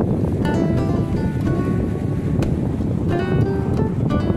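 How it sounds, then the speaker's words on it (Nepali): Strong wind buffets the microphone in a continuous loud rumble, with faint tonal chirps and clicks scattered through it. "दामी हावा चलिरहेको छ"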